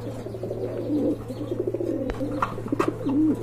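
Several large pigeons coo close by in repeated throaty, rolling calls over a steady low hum, with light rustling and a sharp knock partway through.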